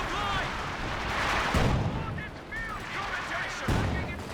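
Battle sounds from Company of Heroes 2 fill the scene with dense machine-gun bursts and heavy booming artillery impacts, loud and continuous, with a commentator's voice running underneath.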